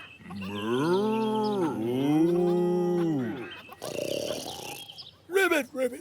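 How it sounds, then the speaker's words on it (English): Long, loud mooing calls from cattle, two drawn-out bellows in a row, followed by a burst of noisy rustle and a shorter, wavering moo. "Farmer Hen heard the mooing and said"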